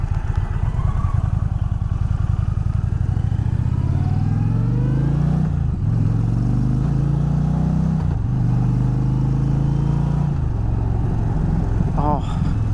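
An Indian Challenger Dark Horse, a liquid-cooled bagger motorcycle, pulls hard through the gears, its engine note rising steadily, dipping at shifts and climbing again, loud and close with heavy wind rush, a brief chirp near the end.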